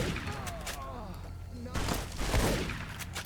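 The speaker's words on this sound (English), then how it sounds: "So we bust out the shotgun with some slugs" Shotgun loaded with slugs fired in Fallout: New Vegas, a few heavy blasts landing in quick succession with game ambience and a speaking voice over it.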